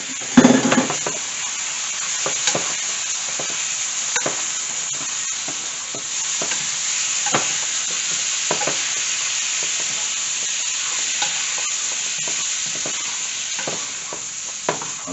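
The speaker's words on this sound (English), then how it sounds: "So now that my curry paste has mixed, has cooked pretty well, I just incorporate my chickpeas." Chickpeas are stirred into curry paste sizzling in a pan, a steady frying hiss with repeated scraping strokes and light clinks of the utensil, close by and with no talk.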